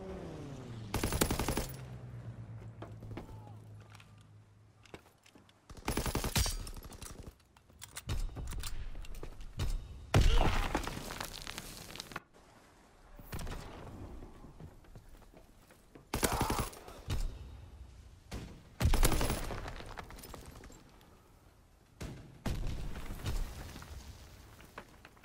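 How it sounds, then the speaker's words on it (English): Repeated bursts of rapid gunfire from an enemy aircraft strafing run in a video game, several loud rattling volleys separated by short pauses over about twenty-five seconds, with a low rumble near the start. "Enemy strafing run incoming"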